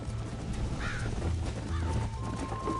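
A horse galloping in Red Dead Redemption: steady clip-clop hoofbeats close by, with a brief whinny over the pounding rhythm.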